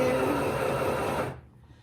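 A Stoigeld SM-725 beginner sewing machine stitches fabric with a loud, continuous buzzing whir that runs for over a second, then stops and fades into quiet room tone.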